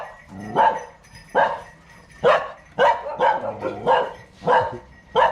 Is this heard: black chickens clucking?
no